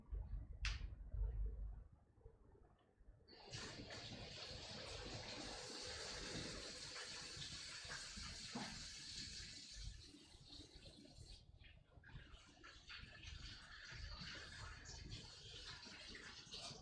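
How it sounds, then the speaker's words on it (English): Tap water runs over hands being washed clean of grime during a gemcutting session, a steady close rushing hiss that starts after a few seconds of quieter room sound and continues without pause. "I want to go wash my hands real quick because I've got all kinds of crude on them."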